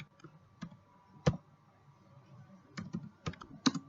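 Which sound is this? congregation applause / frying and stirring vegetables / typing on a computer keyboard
typing on a computer keyboard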